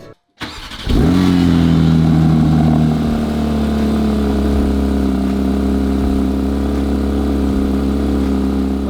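A 2022 Porsche 992 GT3 engine cranks and fires up, then settles into a loud, steady idle with a deep exhaust rumble through the stock exhaust with valves closed, close by.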